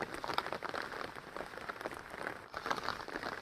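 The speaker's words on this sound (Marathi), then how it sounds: "पाऊस पण सकाळपासूनच" Steady rain falls over farm fields during paddy transplanting season, a dense, even patter of drops that continues throughout, close and moderately loud with no talking.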